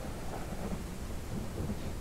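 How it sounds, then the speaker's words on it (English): In the video game Ranch Simulator, heavy rain pours as a dense, steady roar with low rumbling thunder beneath it, constant and enveloping, with no talk over it. "Man, this is some heavy rain."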